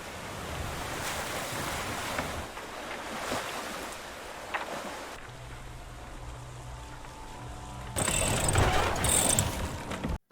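A sailing yacht moves across open ocean, with a steady wash of waves and wind throughout, a low mechanical hum in the middle stretch, and a louder surge of water and rigging toward the end.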